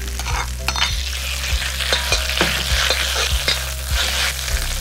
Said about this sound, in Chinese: 大火炒肉丝呢，可以更好的包住肉里面的水分